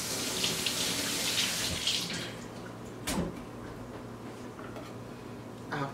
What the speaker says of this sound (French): Alors je vais laver les tomates.